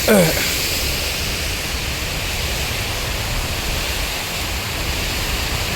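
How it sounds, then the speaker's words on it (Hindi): A strong waterfall at Gohad Wesley Dam park roars as a loud, continuous broadband rush, steady throughout with a brief louder burst at the start. "झरना बहुत तीव्र है"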